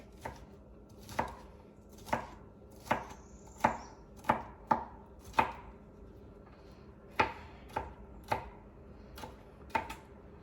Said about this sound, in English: And green peppers. I don't cut these up too small.